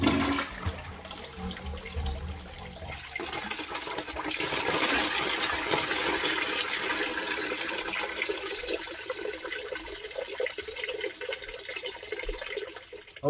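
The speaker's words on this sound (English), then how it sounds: "Let's go ahead and flush this again." A household toilet flushed during sewer main line clearing, a loud rushing swirl of water building after a few seconds and draining over about ten seconds, heard close up.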